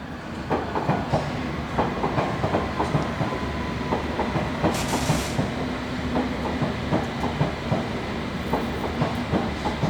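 A London Underground Jubilee line train runs steadily with a continuous rumble and rhythmic clickety-clack of wheels over rail joints, plus a brief hiss midway, heard close from inside the carriage with no talking.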